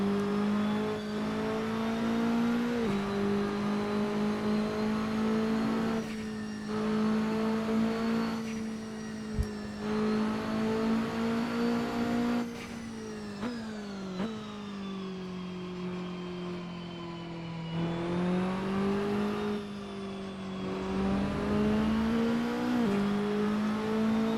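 A Saleen S1 GT4 in the Assetto Corsa racing game runs through a reservoir chicane, its engine droning steadily with pitch dropping and rising through gear changes and braking, loud and continuous with no talk.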